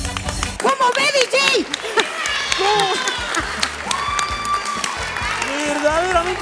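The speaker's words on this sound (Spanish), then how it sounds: "Un aplauso." Live audience at a Mexican brass band show applauding and cheering in bursts, clapping mixed with shouts while a voice speaks over the noise.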